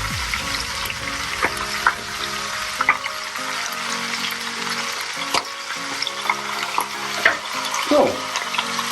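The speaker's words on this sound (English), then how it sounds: "my chicken's been frying for about 5 minutes now" Chicken thighs fry skin side down in a pan, a continuous crackling sizzle with scattered pops and occasional clinks of a utensil.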